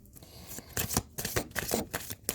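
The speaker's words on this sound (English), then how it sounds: "I'm going to keep shuffling those" Tarot cards being shuffled by hand, a close, soft run of riffling and sliding card noise with quick irregular flutters, no voice heard.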